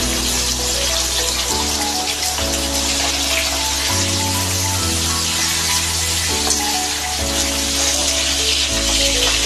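Pomfret fish frying in oil in a home kitchen, a steady bright sizzle running continuously underneath louder background music.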